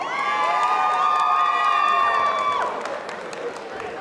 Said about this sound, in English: And the crowd out in support of Maicey Gaffney here, very happy